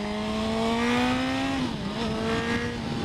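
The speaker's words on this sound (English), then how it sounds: "As you can hear, I got the exhaust put on." A Honda 1000cc motorcycle engine with a loud aftermarket exhaust idles high, its pitch rising then dipping as the throttle is blipped, close by.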